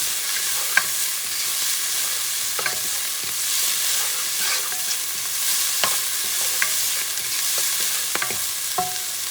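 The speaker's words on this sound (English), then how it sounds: "you're going to stir things around. Just a little bit. You want these flavors to mix." Short rib beef stew being stirred in a pot, with soft scraping and light sizzling, scattered utensil clicks and taps standing out over a steady hiss, no voices.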